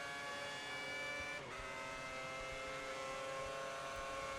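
Racing-car engine from the F1 2010 video game during a wet race at the European Grand Prix, a steady high-pitched whine holding at an even, continuous pitch in the background throughout.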